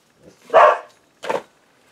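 Two sharp dog barks, the first louder and longer, the second shorter after a brief pause, close by indoors with no talking.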